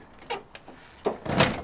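A 1999 B-series car's door is opened up close, a couple of clunks and a latch release followed by a louder rustling thump as it swings open, with no talking.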